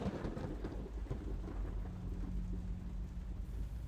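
Steady rain pours down throughout, with low rumbling thunder rolling underneath, dense and continuous with no voices.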